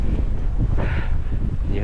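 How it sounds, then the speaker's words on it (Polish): Strong mountain wind on Kazbek roars and buffets the microphone in a steady, rumbling rush that never lets up. "I ten wiatr daje się we znaki"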